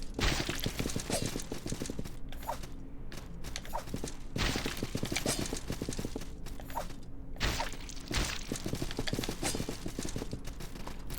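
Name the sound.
horse in the video game Salt and Sanctuary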